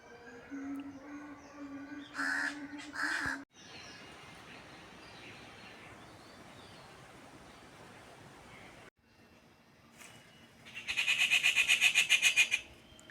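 Birds call outdoors over a steady rushing noise, ending in a loud, rapid, pulsing trill from a nearby bird.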